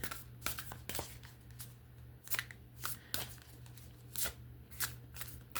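A little-used Angels and Ancestors oracle card deck, still stiff, gets shuffled in a series of quick crisp riffling bursts, close by, over a low steady hum.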